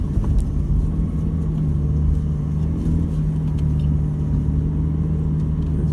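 A vehicle with tyres at 12 psi labours steadily through soft beach sand, its engine giving a constant close, loud rumble with a low drone and no break, and no talk over it.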